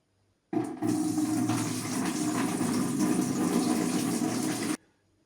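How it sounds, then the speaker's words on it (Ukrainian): Prepared broth poured into a bucket as the base of a marinade for smoked rabbit, a steady, close, continuous liquid rush lasting about four seconds, then stopping abruptly. "Спочатку наливаю сюди, так би мовити, приготовлений навар."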